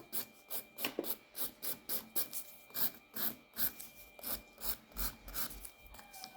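A gel nail is filed and shaped with rapid, even rasping strokes, about three per second, close and dry, with no voices.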